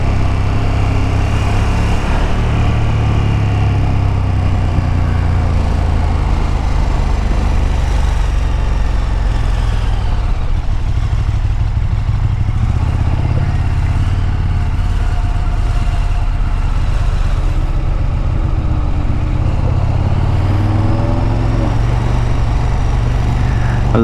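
A KTM Super Duke 1290 GT motorcycle engine on a 2019 test ride, loud and continuous with a deep rumble, rising and falling as the revs change, plus steady wind roar throughout.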